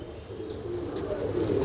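High flyer pigeons in Jhalawar coo in low, soft, repeated murmurs, close by and steady, with no voices over them.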